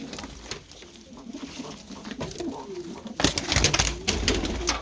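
Pigeons coo softly inside a coop in the evening, low throaty calls under rustling and shuffling, with bursts of wing flapping and handling noise growing louder toward the end.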